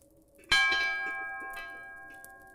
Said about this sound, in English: The iron bell clanged in the empty kitchen below.